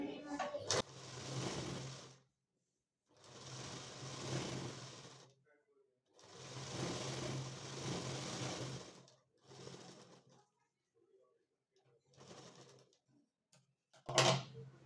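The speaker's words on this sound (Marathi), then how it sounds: "अशा पद्धतीने आपण स्टिच करून घेतलेलं आहे" Sewing machine stitching the sleeve of a blouse in several bursts of steady whirring, each lasting a second or two and separated by short pauses, with one sharp click near the end.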